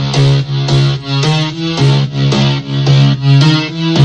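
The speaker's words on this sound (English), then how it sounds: "they used to have this distorted 303 sound. It would come from a sequencer." A gritty, distorted 303 acid synth bass line pulses in a steady sequenced rhythm, buzzy and bright, with short repeating notes and no voices.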